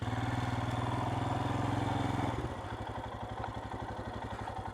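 A Royal Enfield Himalayan 411 motorcycle off-road, its single-cylinder engine thumping loud and close at a steady rhythm, then dropping to a slower, lower chug partway through.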